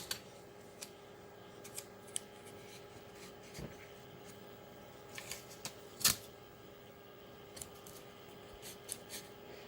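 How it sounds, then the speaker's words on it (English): Tape pieces are torn and pressed onto a board game insert tray, giving quiet sharp snips and rips scattered over a faint steady hum, with one louder tearing burst in the middle and no talking. "And we'll add 2 pieces of tape."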